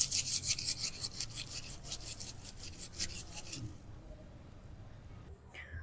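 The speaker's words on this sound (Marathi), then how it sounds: "तर या पद्धतीने आपण सर्व लसूण सोलून घेऊया." Garlic cloves rubbed between the hands to loosen their papery skins, a steady rough rustling and scraping that runs for about four seconds, then fades into quieter room noise.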